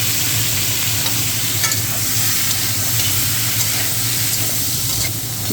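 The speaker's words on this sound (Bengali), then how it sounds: "হালকা ভাজি করে নামিয়ে নেব।" Ridge gourd frying in a pan with salt and turmeric gives a loud, steady, close sizzle with light scraping from stirring and no voices.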